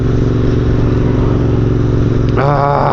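A Royal Enfield INT650 motorcycle cruises in 6th gear on a cold road, its steady loud engine drone heard up close with wind, then a rising tonal shift near the end.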